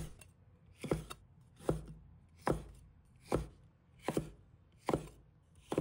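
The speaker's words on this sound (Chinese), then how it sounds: "切成大小适中的块状。" A knife chops a halved, deseeded vegetable into medium chunks on a cutting board, seven sharp, evenly spaced thuds, close and clear with no talking.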